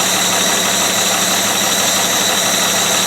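A freshly serviced six-cylinder engine in a 109 idles steadily and loudly up close, a constant even drone with a slight valve tick and no voices.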